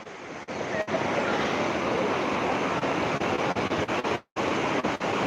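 Broad steady wash of sea waves breaking along the rocky shoreline of Rock Beach in Pondicherry, continuous and fairly loud with wind rumble, briefly dropping out near the end.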